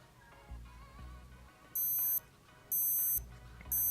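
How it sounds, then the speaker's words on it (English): A Casio G-Shock Gulfmaster watch sounds its countdown timer alarm in three loud, high-pitched beeping bursts, each lasting about half a second, over quiet low-level background noise. "This beeping is very loud actually, and it's very long."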